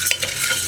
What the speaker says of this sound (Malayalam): പയർ ചേർത്തിട്ട് ഒരു 2 മിനിറ്റ് ഹൈ ഫ്ലെയിമിൽ വെച്ചിട്ട് ഒന്ന് വറുത്തെടുക്കാം